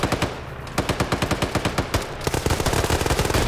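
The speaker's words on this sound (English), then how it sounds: "he has to hear those gunshots" Rapid automatic gunfire in a competitive first-person shooter match, loud bursts of closely spaced shots that run back to back and get faster and denser toward the end, with no voices.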